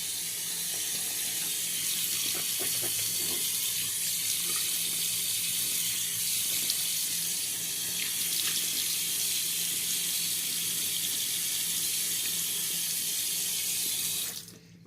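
Tap water runs steadily into a sink during a wet shave with a Gillette Red Tip razor, a continuous close rush of flow that stops abruptly at the end.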